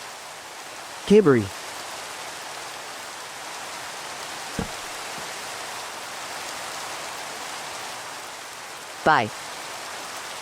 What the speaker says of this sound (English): Love the sound of rain.